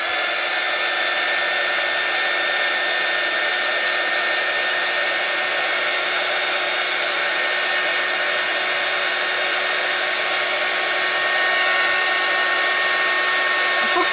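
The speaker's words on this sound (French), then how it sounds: "Je prends mon pistolet à embosser" A heat embossing gun blows hot air over embossing powder on a watercolour card, a steady, loud whirring hiss that runs unbroken and close for the whole stretch with no talk over it.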